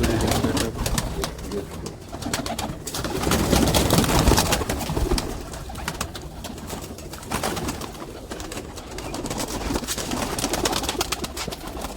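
Red kabootar pigeons coo repeatedly in low, throaty bursts, with flapping and rustling around them and faint human sounds in the background.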